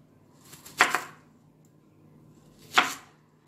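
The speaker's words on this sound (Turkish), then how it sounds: "Bir adet soğanı bölüyorum." A kitchen knife cuts through an onion in two separate strokes, each a short, crisp chop onto a board about two seconds apart, close by and fairly quiet against a still room.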